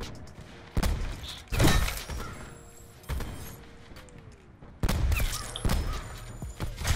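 Bursts of video game gunfire crack and thump in rapid volleys, with sharp impacts and mechanical clatter between, loud and close with short lulls in between.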